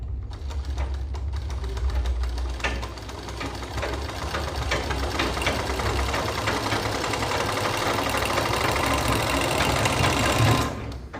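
An electric sewing machine stitching a suit seam runs continuously with a fast, steady mechanical whir and rattle, loud and close, stopping briefly at the end.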